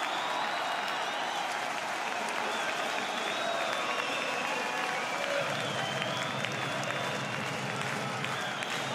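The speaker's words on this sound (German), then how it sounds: "Applaus von Markus Kautzinski" Spectators at a football match between SV Wehen Wiesbaden and 1860 Munich applaud and cheer after an early goal from a corner, a continuous crowd roar with clapping throughout the stadium.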